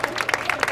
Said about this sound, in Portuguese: Bate palma, bate palma